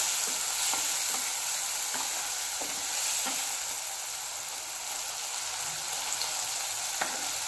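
Tomatoes sizzle and fry on a high flame for egg bhurji, a continuous hiss with periodic stirring scrapes, close and steady with no talking.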